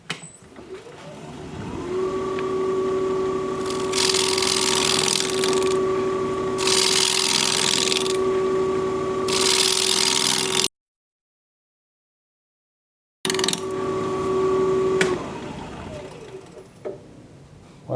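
Wood lathe spinning a live edge wooden trivet while a bevel is cut, a steady motor hum with sustained tonal whine broken by bursts of harsh scraping from the tool, then a brief silence before the hum resumes.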